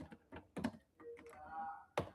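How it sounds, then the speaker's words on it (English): Typing on a computer keyboard: a few soft, irregular keystroke clicks and taps, quiet and close, with a faint hum in the background. "I'm going to type in who I am here for."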